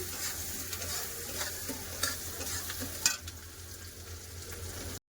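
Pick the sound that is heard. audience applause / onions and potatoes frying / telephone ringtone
onions and potatoes frying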